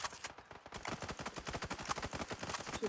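Rapid automatic gunfire with recoil in the battle royale game PUBG, a dense rattling burst of evenly spaced shots running almost continuously and fairly loud, with no talking over it.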